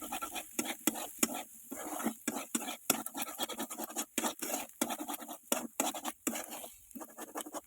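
Mushrooms are stirred and mixed in a pan, with a spoon scraping the metal surface in quick, repeated close strokes and brief pauses between them.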